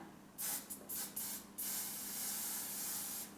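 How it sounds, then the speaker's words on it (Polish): A cosmetic face mist bottle sprays in several quick short bursts, then one longer sustained hiss, close and clear with no talking. "Otwieram oczy i nastawiam się, psikam."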